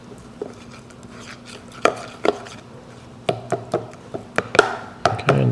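Sourdough starter culture being broken up and mixed by hand, with a series of soft, sticky taps and squelches that grow closer together toward the end, with no talking.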